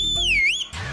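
A single loud whistle, close and alone, its tone sliding down then back up in pitch over under a second.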